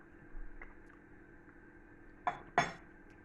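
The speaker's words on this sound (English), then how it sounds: "Right, so clean spoon. Just dip that in." A clean spoon goes into a jar of fermented vegetable sauce, and two sharp close clinks of metal on glass land near the end after a quiet stretch, with no voices.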